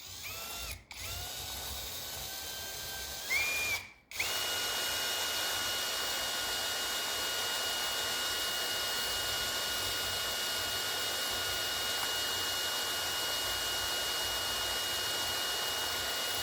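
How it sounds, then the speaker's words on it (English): A hand drill spins a prototype electric motorcycle transmission, a steady loud whirring hum that drops out in two brief pauses and a short pitch shift early on, then runs continuously and evenly. "I will temporarily operate it using a hand drill."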